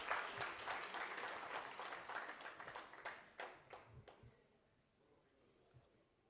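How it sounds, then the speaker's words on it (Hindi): An audience at a Raika Doctors Association gathering in Jodhpur applauds a doctor. The clapping is quite faint and thins to a few scattered claps before fading out. "तो सभी एक बार जोर से सर के लिए तालियां बजाएं"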